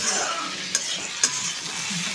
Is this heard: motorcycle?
no